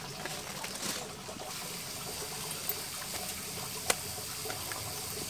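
Water running steadily through a large DIY rainwater filter system with connected tanks, a continuous soft trickling and splashing flow with a couple of faint knocks.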